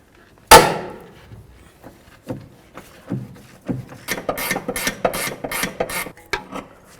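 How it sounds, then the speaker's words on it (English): A ratchet loosening a front lower control arm bolt on a 2009-13 Mazda 3: a sharp initial crack, then sparse clicks building into a fast run of loud, close ratcheting clicks. "let's continue on to loosening up this bolt"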